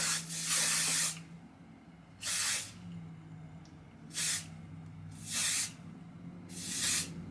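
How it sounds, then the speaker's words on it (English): Five short bursts of strong-hold hairspray hissing from an aerosol can onto freshly heat-styled hair, each about half a second to a second long, close and loud, with quiet pauses between. "I'm gonna spray these down while they're still"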